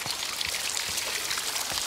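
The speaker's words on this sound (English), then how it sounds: "The water's flowing now." Water flows steadily in the Botany Manor game, a continuous broadband rush with soft droplet patter like a running tap or trickling stream, even and uninterrupted throughout.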